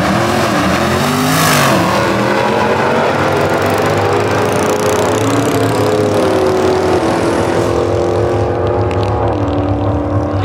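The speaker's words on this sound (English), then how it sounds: "So we got a Demon, a Hellcat, and a go-kart right here racing." A Dodge Demon, a Hellcat and a go-kart race down a drag strip, engines roaring loudly and rising in pitch as they accelerate, then fading into the distance.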